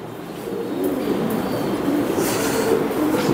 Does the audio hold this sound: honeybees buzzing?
no